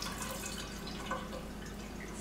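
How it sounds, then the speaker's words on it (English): Milk drains from soaked catfish into a kitchen sink, a faint, steady trickle and drip heard close up with no voices. "I'm just going to go over here to the sink and drain that milk away"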